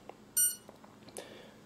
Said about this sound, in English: the motors will beep periodically to let you know that it's disarmed but still powered.